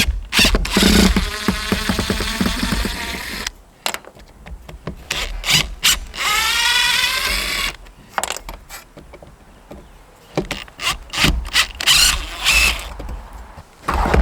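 A power drill backs drywall screws out of roof vents on a mobile office building roof, giving bursts of whirring and grinding with scraping and handling noises between them, close and fairly loud.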